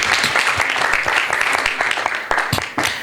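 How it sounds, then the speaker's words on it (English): A church congregation claps hands during a sermon, producing dense, fairly loud applause with sharp individual claps standing out; a few voices mingle faintly beneath it. "Shall we clap our hands?"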